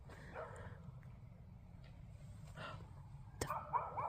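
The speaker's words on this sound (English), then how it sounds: "But that is not my dog barking." A neighbor's dog barks somewhere off in the woods, faint and distant, with a few quick yaps clustered near the end over a low outdoor hush.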